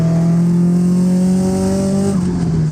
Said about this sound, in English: Listen to this turbo.